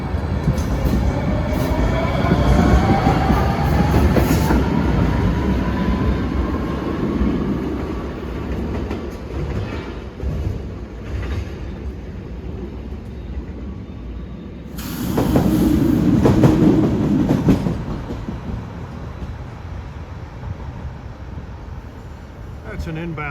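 An inbound NJ Transit Newark Light Rail car rumbles past nearby at Norfolk Street, outdoors, with a steady broad roar and hiss, fading, then a second loud surge of rail noise builds and subsides.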